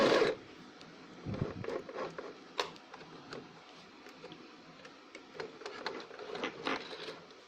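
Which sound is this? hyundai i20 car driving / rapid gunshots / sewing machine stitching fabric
sewing machine stitching fabric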